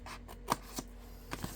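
Scissors cutting paper along a score line for a papercraft card project: a few short, soft snips and crisp paper rustles, quiet and close with no talk.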